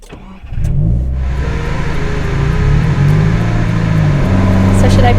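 A manual pickup truck's engine hums at idle, then rises in a steady rev as a learner driver pulls away, loud and close, with the note climbing gradually toward the end.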